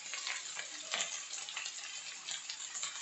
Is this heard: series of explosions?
no